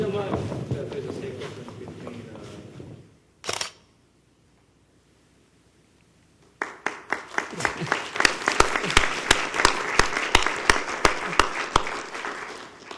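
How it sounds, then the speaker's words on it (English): A large audience bursts into sustained clapping at a university board of trustees meeting, dense and close, building steadily after a brief lull with sharp individual claps standing out. "Round of applause."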